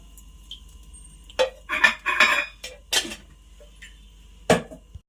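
A bowl set down on a gas stove for tempering, followed by a few sharp clinks and clatters of metal utensils as two tablespoons of oil go in, with quiet pauses between the knocks.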